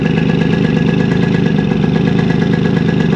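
A Yamaha RD50 moped's two-stroke engine idles with no air filter on the carburetor, giving a steady, loud, close, buzzy drone with an even fast pulse and no talking over it.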